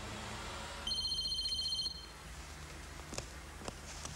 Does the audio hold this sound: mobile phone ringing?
yes